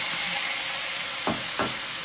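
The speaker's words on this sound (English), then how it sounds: "it's gonna sizzle, so let me turn it down a little bit." Steady, loud sizzling of soy sauce hitting a hot pan, with two brief scraping or stirring sounds partway through.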